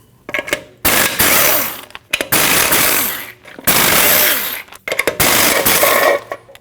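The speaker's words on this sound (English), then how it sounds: "you have 8 21mm lug nuts. You need to remove those." An impact wrench rattles off the 21mm lug nuts on a Nissan NV2500 van wheel in a garage, with several loud bursts of hammering separated by short pauses.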